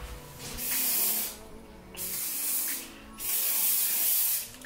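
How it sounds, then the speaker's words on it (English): Holding spray is sprayed onto a curly wig in three long bursts, each a bright close hiss lasting about a second with short pauses in between, no voices. "I'm actually gonna spray some holding spray on top of my head."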